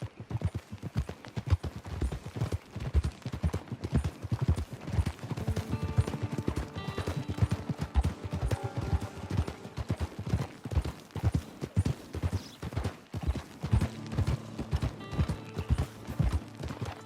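Horse hooves clip-clop steadily in Red Dead Online, a brisk rhythmic trot heard up close with occasional whinnies and faint game ambience, no speech.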